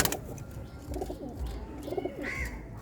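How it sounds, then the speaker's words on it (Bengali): Silver pigeons cooing in a loft in Keraniganj, two soft throaty rolling coos close by, each about a third of a second, over a steady low background rumble. "এই একটা সিলভার কবুতর"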